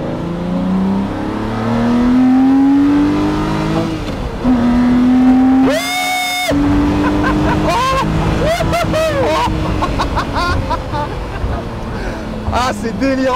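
A Lamborghini Murciélago Roadster's engine at full throttle, loud and close, with a rising roar that briefly cuts out for a shift and then climbs again while voices exclaim over it.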